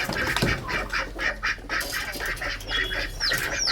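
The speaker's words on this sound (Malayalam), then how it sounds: "താറാവ് കയറിക്കഴിഞ്ഞു" A duck quacks in a steady run of nasal calls, close and fairly loud, with a few higher squawks near the end.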